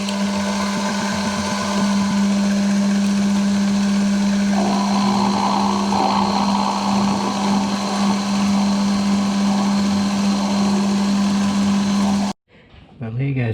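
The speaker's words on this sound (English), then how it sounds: "recess this down below the V, which I'll probably use an end mill to get that in there" An end mill machining a recess below the V of a machinist jack makes a loud, continuous machine whine and hum, with a rougher cutting band midway before the sound cuts off abruptly near the end.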